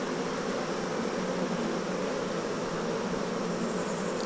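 A dense, continuous buzz of many nurse bees crowds a hive frame from a homemade hive, loud and close, steady from start to finish with no voices.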